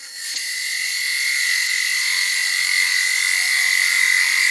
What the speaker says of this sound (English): Nice bevel rubbing cut with the spindle gouge.